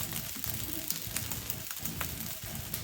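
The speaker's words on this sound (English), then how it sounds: "He's frying up real nice." Fried rice sizzling and crackling steadily in a hot pan, close by, with a continuous hiss and occasional sharper pops.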